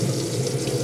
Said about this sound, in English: Just showing your water pump working.